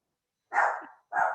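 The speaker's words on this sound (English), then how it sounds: "I apologize for my dog barking." A dog gives two sharp, fairly close barks in quick succession, with silence before and between them.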